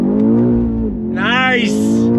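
A 2025 BMW X6 M Competition in track mode, engine revving hard under full throttle with rising pitch as it accelerates, loud and close, with a person talking over part of it.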